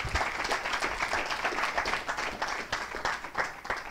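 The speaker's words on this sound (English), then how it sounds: "Round of applause" A room of people at a law class gives a dense, steady round of applause, many hands clapping close together for the whole stretch with no break.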